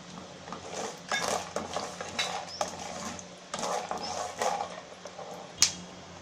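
Peanuts and chana dal fry in a pan for aloo poha as a spoon stirs and scrapes the metal, producing irregular clattering bursts over a low sizzle, with one sharp clink near the end.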